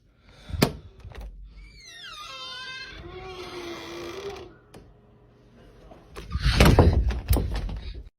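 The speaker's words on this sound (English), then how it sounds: "After opening the creepy sounding door" A creepy old door creaks slowly open in a long, wavering groan that rises and bends in pitch, framed by sharp thuds before it and a loud, heavy clatter and rumble afterward, with no voices.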